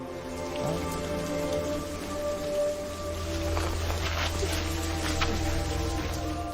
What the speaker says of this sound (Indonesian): Air mulai menggenangi lubang ini karena hujan yang sangat deras di luar sana.